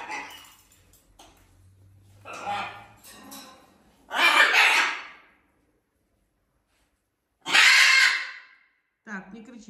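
Parrots let out loud, harsh squawks in two long bursts, with quieter talking and small noises in between.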